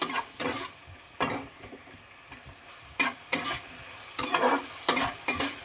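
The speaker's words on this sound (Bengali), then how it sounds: "টমেটো কুচিটা ভালো করে এর সঙ্গে নেড়ে নিতে হবে।" Chopped tomato and four whole green chillies are stirred in a pan with intermittent scraping strokes and a soft sizzle, in short bursts separated by brief pauses.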